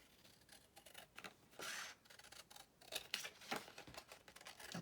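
Scissors snip through decorative paper trim while finishing a handmade journal cover, with a string of close, crisp cuts and rustling paper, no talking.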